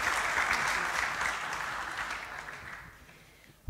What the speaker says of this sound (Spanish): Así que un nuevo aplauso para Carolina.